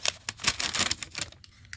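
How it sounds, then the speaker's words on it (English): A plastic yarn bag holding fingering-weight yarn is pulled open with dense, bright crinkling and rustling in quick bursts, close and fairly loud, with no talking. "we've got an impossible to open without overly crinkling bag"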